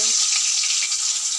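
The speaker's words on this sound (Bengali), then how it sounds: "আলুগুলো দিয়ে ফ্রাই করে নেব" Cut potatoes sizzle in hot oil in a pan, the same oil just used to fry hilsa fish; a dense, steady crackling hiss, close and loud, with no voices.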